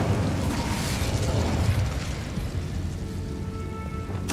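A fiery burst from the Incendio spell in Hogwarts Legacy, a dense crackling, rushing roar that stays loud throughout, with a sharp flare at the very end.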